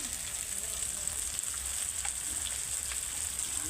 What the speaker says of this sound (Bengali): দেশি মাংস কিন্তু কষে, যত কষবে তত